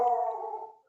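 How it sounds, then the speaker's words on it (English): A single dog howls close by, one sustained mournful tone that slowly fades out over about a second. "I apologize for the dog in advance."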